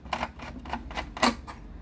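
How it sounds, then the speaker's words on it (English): Screw being removed from a 3.5-inch hard drive inside an HP 24-g099na all-in-one PC. Close, regular ticking clicks come about four per second over a low background hiss. "We're going to take out this screw, because this is secured with only one screw,"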